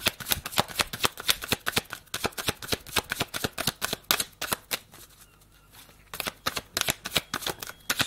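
Tarot cards shuffled in rapid riffling bursts, crisp and close, with a short pause of quieter handling midway before the brisk shuffling resumes; no voices.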